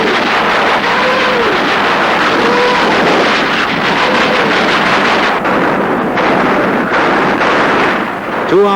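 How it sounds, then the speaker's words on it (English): Intense artillery fire pounds German positions at the opening of Operation Citadel in July 1943, a loud, continuous rumbling barrage with heavy booms blending into one roar and wind-like buffeting. "the German positions came under intense artillery fire"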